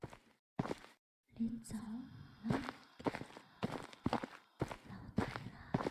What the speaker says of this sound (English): My footsteps are so loud in this game, I'm surprised she doesn't hear it.